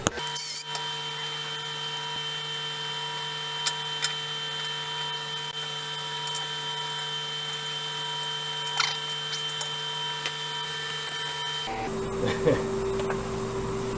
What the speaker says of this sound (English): So we'll get this on the lathe.